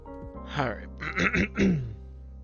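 A person clears their throat and gives a few short coughs close to the mic, three or four rough bursts in quick succession with no talk.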